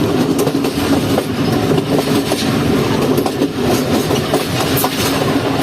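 A passenger train rolls along the rails with a close, continuous rumble and rhythmic clickety-clack of wheels over joints, carriage rattles steady throughout and no voices.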